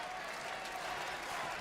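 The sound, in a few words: wrestling arena crowd applauding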